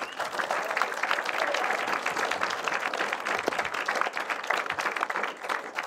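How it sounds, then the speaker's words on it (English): Filmmakers and film fans at an awards ceremony applaud in a dense, continuous wash of clapping that stays steady for several seconds without any speech over it. "give yourselves a big round of applause"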